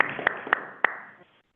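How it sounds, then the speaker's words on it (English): A meeting audience at a county commission session claps for about a second and a half, a short patter of hands with a few sharp claps, fading out at the end. "This is where we stand up and cheer you."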